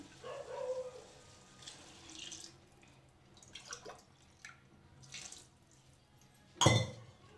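Water poured from a glass into a cooking pot for soya chunks pulao: soft, faint trickles and drips lead up to one short, louder splash near the end.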